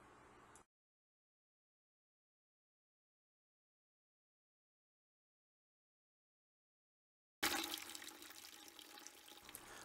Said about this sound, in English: This is the flow from the spigot through the 4-foot leader directly into a bucket